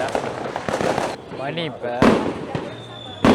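Firecrackers and fireworks burst during a Raya celebration, loud sharp bangs cracking nearby between whistling rockets, with someone talking briefly amid the explosions.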